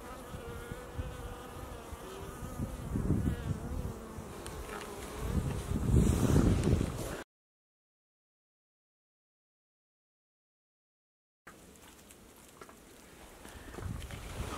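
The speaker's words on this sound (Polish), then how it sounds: "Chodźmy sprawdzić, czy pszczoły obleciały się na pasiece B-Royal." Many honeybees drone and buzz continuously around apiary hives in a forest in February, close by and fairly loud, with a few seconds of total silence partway through.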